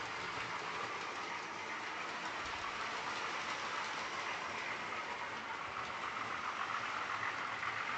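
A model train runs along a track layout in the Deep Glen scene, giving a steady, faint mechanical hum with light rolling clatter, continuous throughout with no pauses.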